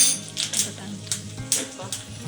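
Mustard seeds, pepper and cumin crackle and spit in hot ghee for Udupi-style moong dal rasam, with sharp popping bursts over a close, steady sizzle.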